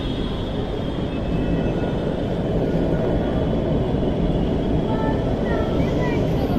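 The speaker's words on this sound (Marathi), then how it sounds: "ती ती मेट्रो आली" A Mumbai Metro train rumbles steadily into a station, a loud continuous roar of wheels and motors with faint voices murmuring underneath.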